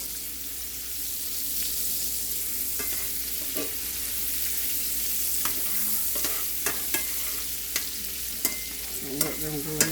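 Shrimp stir fry in a pan with a steady, close hiss of hot oil, broken by a few light scrapes and taps of a utensil toward the end.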